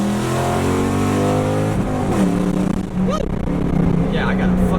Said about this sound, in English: I'm gonna do one more pull for you guys, and let's hear this thing sing.